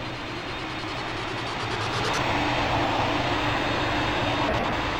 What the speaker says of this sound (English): Let's make sure these engines are starting.